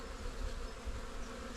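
Honey bees buzz at an open hive during a spring inspection, a soft, steady, diffuse hum of many insects, faint and continuous with a low rumble underneath and no talking.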